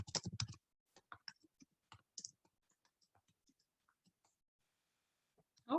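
Computer keyboard typing in a quiet room: a loud burst of rapid keystrokes at the start, then scattered, sparser key clicks that thin out and grow fainter, ending with another sharp clatter.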